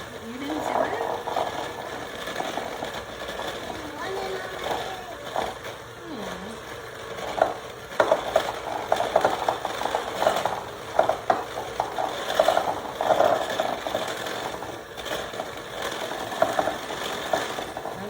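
Electric mixer creaming butter, sugar and other pumpkin pie cookie dough ingredients in a bowl, a continuous whirring drone with rattling beater knocks against the bowl, under intermittent talk.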